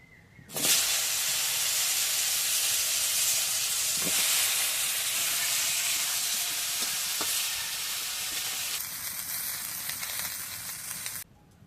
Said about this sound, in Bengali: ওই তেলের মধ্যে আলু আর পটল ভেজে নেবো